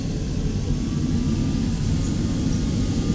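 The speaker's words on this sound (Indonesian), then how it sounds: "Besar banget drone-nya ini." A large Syma X8 series quadcopter drone flying outdoors, giving a steady, loud, unbroken whirring roar with low rumble and no pauses.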